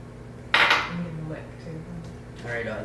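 Peanut butter dough for homemade dog treats is scooped and stirred in a bowl, giving a sharp utensil knock against the bowl followed by softer scraping, with a voice talking over it.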